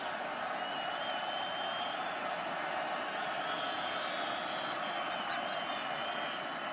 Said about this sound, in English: Crowd trying to rile up Boise.